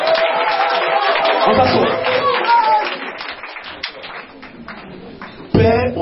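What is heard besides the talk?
congregation clapping and acclaiming God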